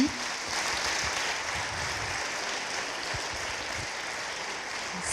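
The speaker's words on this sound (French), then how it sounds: "On vous applaudit très fort." Audience applause after a talk on bio-inspiration, as the author leaves to sign books: a long, even sheet of crowd clapping, moderately distant, steady from start to finish.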